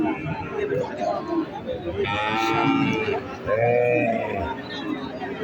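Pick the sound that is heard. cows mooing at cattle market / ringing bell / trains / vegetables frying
cows mooing at cattle market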